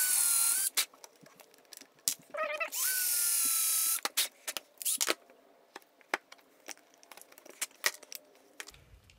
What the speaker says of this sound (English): So now this Forstner bit that I have already just happens to fit. right inside this little hole here.